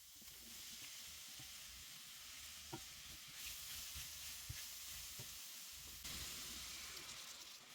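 Vegetables with paprika, including zucchini, sizzle steadily in a pan while being tossed and stirred, with soft scraping stirs breaking through a constant frying hiss, up close and alone.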